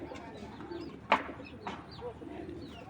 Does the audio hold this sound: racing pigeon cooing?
yes